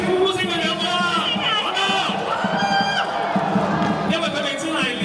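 A dense crowd at the Tai Hang fire dragon dance in Hong Kong cheers and shouts, with many excited voices rising and falling over continuous loud applause-like noise.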